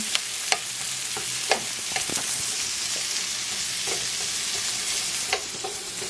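Vegetables sweat in a frying pan with a steady soft sizzle, broken by a few scattered clicks and scrapes of stirring, close and moderately quiet, with no talking.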